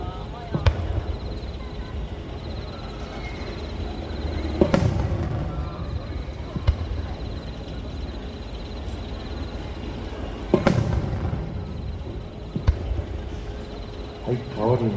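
Sazanami ripple fireworks at the Nagashima Onsen fireworks festival go off in several separate booms spaced a few seconds apart, each echoing over a continuous background hum of the crowd and open air.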